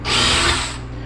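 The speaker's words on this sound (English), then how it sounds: "So you get your drill down in here." Power drill boring a pocket hole through wood in a Kreg pocket hole jig, a loud, close whirring burst of under a second that drops off sharply and leaves a faint hum.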